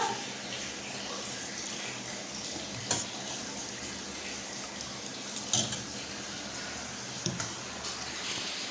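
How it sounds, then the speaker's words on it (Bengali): Fish fries in a pan in a home kitchen, giving a soft, steady sizzle with a few faint clinks. No one speaks. "ভাত মাছ ভাজা রান্না হচ্ছে"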